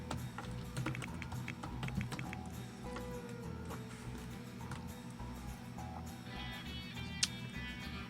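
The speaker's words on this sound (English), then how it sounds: "Oh, I keep typing on top of myself" Computer keyboard typing during a live search, soft irregular key taps running steadily over a low steady hum, fairly close but quiet, with one sharper click near the end.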